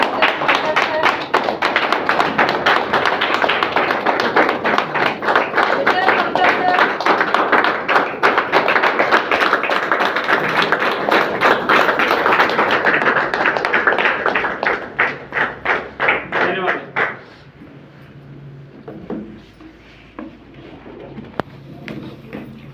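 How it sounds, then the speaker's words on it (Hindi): An audience at a health awareness program claps loudly and rhythmically in unison to welcome a speaker, sustained for a long stretch before tapering into scattered claps and a quiet room. "जोरदार तालियों के साथ उनका स्वागत करते"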